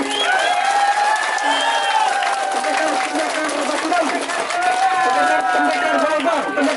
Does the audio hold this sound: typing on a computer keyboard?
no